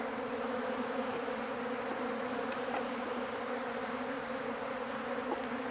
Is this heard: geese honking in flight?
no